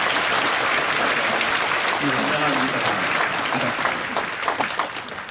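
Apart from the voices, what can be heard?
congregation applauding the children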